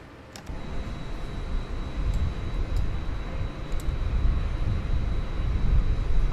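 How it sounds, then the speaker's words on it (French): A Boeing 787-10 jet engine in Microsoft Flight Simulator 2020 spools up, a steady broadband roar building gradually in loudness with a faint high whine above it. "On entend les moteurs, le moteur numéro 1 qui démarre."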